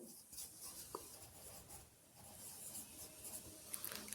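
Chalk or marker strokes on a classroom board during a children's lesson, a faint scratchy rubbing in short bursts with a quiet room behind it.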